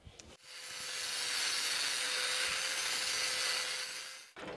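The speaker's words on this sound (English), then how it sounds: "So I'm gonna sand that, smooth that down" A power sander smooths down a weld on the rusty body panel of a 1978 Chevy C10 street truck, a steady harsh abrasive rasp running loud and close for about four seconds with no talk.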